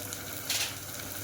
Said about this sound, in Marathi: याला चांगलं परतून घ्यायचं असं